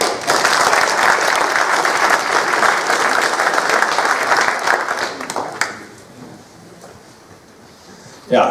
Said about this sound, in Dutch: Applaus, mensen.